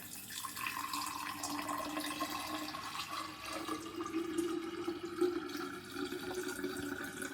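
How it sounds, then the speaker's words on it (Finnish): A kilo of well water is poured into a tared jar, a continuous trickling and gurgling that stays steady and close for several seconds, alone without talk. "Kaadamme sinne kilon vettä."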